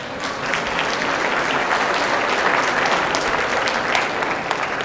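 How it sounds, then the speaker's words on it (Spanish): Audience at an animal health industry event in Chile applauds a doctor's presentation, a dense steady wash of many hands clapping at full strength throughout, with no talking over it. "Démosle un aplauso a la doctora"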